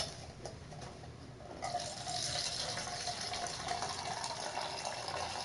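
Water pours steadily into a cup for several seconds, a continuous splashing fill that swells slightly louder partway through, heard close up with no talk over it.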